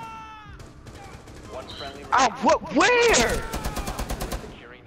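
Bursts of automatic gunfire fired through the floor in Rainbow Six Siege crackle in a rapid rattling volley, mixed with a player's brief voice and game effects.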